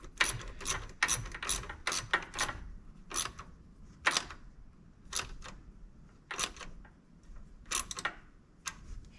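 An 8mm ratchet clicks in short bursts while tightening a hose clamp on a K&N intake in a 2021 Ford Bronco, with quick close pawl ticks separated by brief pauses.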